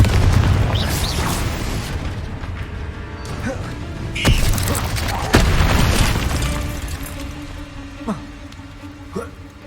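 Confringo blasting spells fired during combat in Hogwarts Legacy, heavy booming explosions and crashing impacts over a dense rumbling game soundscape, with a sharp bursting hit midway.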